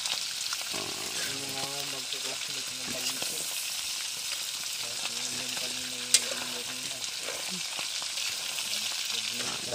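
Bonog fish frying in a pan at a restaurant kitchen, with steady close sizzling and crackling throughout, brief stirring or clatter, and someone speaking over the frying at intervals.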